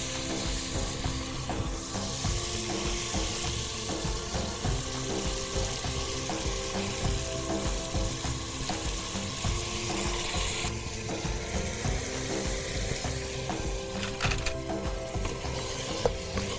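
Soaked rice being stirred into a pot with coconut milk for khichadi, a steady scraping, churning stir with faint sizzle running continuously and close, with no voices.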